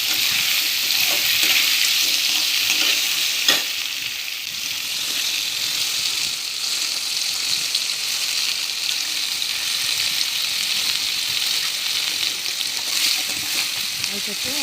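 Chopped onions and curry leaves fry for upma in hot oil, giving a steady, bright sizzle close by with occasional faint clinks.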